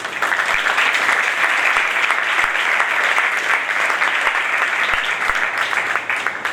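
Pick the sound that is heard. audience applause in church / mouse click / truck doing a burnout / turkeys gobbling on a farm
audience applause in church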